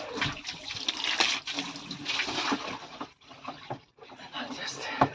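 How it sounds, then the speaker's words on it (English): Water runs steadily into the water tank aboard a small sailboat during spring cleaning, a close, continuous rushing and gurgling flow that dips briefly near the end. "Water tank is full."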